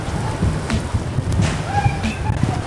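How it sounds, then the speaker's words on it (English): Heavy rain pours down on a Lower Manhattan street near Wall Street, making a steady, dense wash of noise throughout with a few faint passing tones in the background. "rain's really coming down"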